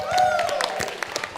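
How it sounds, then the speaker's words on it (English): A crowd applauds a t-shirt giveaway winner at a VR esports convention grand final, the clapping rising briefly and then thinning into scattered claps, with a voice speaking over it. "round of applause for Nightfire for winning a free t-shirt"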